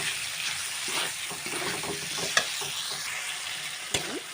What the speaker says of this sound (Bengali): এবারে আলুটি আমি 2 মিনিটের মতো কষাবো